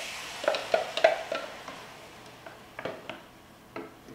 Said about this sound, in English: We put our vine-ripe tomatoes in there.